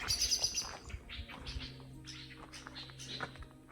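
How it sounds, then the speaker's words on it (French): Small birds chirp and tweet in short, scattered bursts, fairly faint and distant, over a quiet outdoor background at Beit Guvrin, Israel. "On entend les oiseaux."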